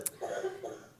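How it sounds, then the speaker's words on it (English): A single short cough from a participant in a 2022 neurodegenerative disease workshop, heard over an open microphone and standing alone at a moderate level. "is having a cough."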